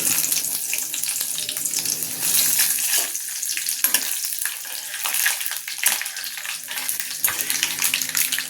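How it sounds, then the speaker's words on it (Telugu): Seasoning seeds crackle and hiss steadily in hot oil, a dense close sizzle with scattered pops throughout, no voices. "ఇదిగోండి తాలింపు గింజలు వేగుతున్నాయి కదా."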